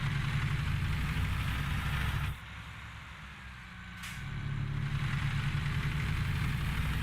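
A Western Star 49X truck engine idles in American Truck Simulator, a steady low rumble that dips quieter for a couple of seconds midway before returning to full level.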